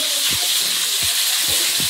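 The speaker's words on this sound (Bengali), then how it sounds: "মাছ ভাজা চলছে," Fish frying in a pan in a home kitchen gives a loud, steady broadband hiss of sizzling oil, with a few low thumps breaking through.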